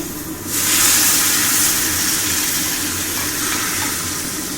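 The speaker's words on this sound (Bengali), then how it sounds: "এবার জল দিচ্ছি" Water poured into a cooking pot of spiced crab and elephant-foot yam curry, a sudden rushing splash that settles into a steady, close hiss of flowing water.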